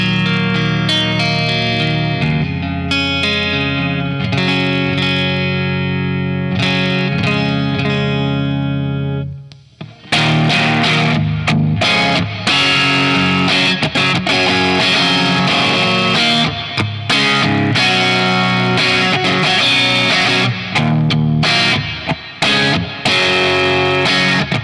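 Electric guitar played through a Bad Cat Jet Black amp with a Klon overdrive pedal: sustained, ringing chords first, then a brief drop before a louder, driven passage of choppy, distorted strumming.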